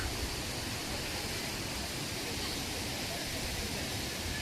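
Steady broadband rush of water at Agathiyar waterfall near Karaiyar, continuous and fairly loud with no break, like falling water heard from close by.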